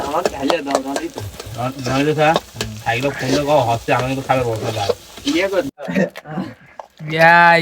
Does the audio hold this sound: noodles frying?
yes